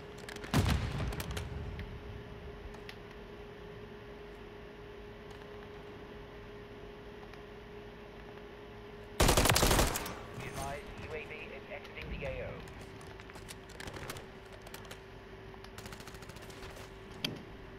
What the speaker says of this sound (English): Friendly remote turret deployed.